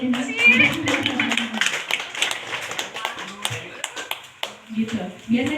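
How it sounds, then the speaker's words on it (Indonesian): Audience clapping at a public speaking training session, loose scattered claps mixed with voices talking over them, uneven and moderately loud, tapering and returning in small bursts. "Buat tepuk tangan untuk Ibu Endang."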